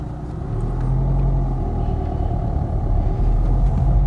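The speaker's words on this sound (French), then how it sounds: "Donc je démarre." Car pulling away in first gear, a steady low engine rumble rising slightly as it accelerates, heard up close from inside the cabin with no talking.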